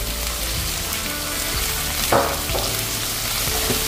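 Crabs cooking in a pan as they are stirred, with pepper added: a loud, steady sizzle and fry throughout, broken by a few scraping clicks of the utensil against the pan.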